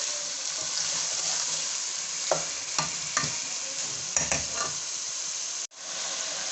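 Chicken fries in a pan with a steady hiss and sizzle while a spoon stirs and scrapes it in a few sharp clatters, with a brief cut near the end.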